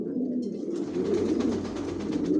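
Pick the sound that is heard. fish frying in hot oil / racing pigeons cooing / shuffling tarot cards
racing pigeons cooing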